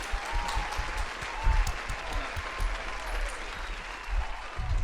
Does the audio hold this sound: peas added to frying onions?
no